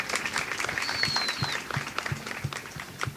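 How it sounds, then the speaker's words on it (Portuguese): Wedding guests applauding during a ceremony, a moderate crowd clapping steadily and evenly, medium distance, with no talk over it. "Vamos aplaudir."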